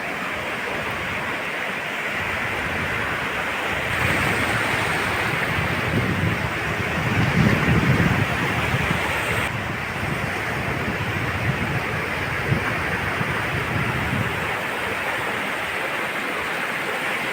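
Surf at Kudle Beach in Gokarna, Karnataka, a steady broadband wash of breaking waves that swells briefly in the middle, constant and fairly close with light wind noise over it.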